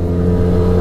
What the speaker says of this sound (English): So as you can tell, it's kind of a very loud engine.